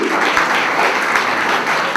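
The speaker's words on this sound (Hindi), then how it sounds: "उन पेरेंट्स के लिए जोरदार तालियों की मैं गुजारिश करूंगी" An audience at a women's empowerment panel discussion claps strongly in honour of parents, a dense, even burst of applause close and loud for the full stretch.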